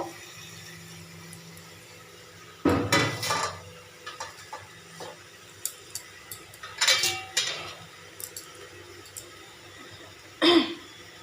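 Eggs go into a pan of spiced masala with cumin, coriander and garam masala. A loud clatter of utensils against the pan is followed by scattered scrapes and knocks, with quiet background otherwise.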